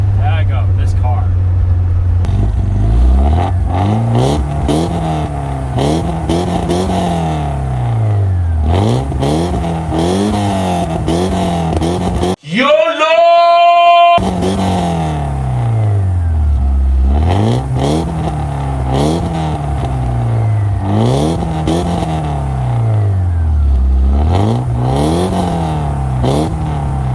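A car engine revs again and again in repeated rising and falling sweeps, loud and close, with a brief higher whine partway through, while people talk over it.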